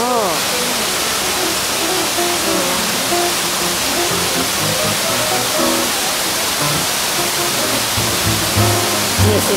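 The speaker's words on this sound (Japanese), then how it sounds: "白糸の滝の小さいような感じだね" A small waterfall near Fujinomiya roars as a loud, continuous broadband rush of falling water, with people talking faintly beneath it.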